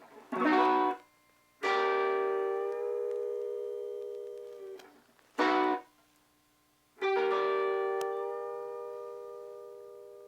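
Four twangy electric guitar phrases in a western swing country style, imitating a steel guitar, each a sharp attack ringing out into sustained bright notes, played alone with short gaps between.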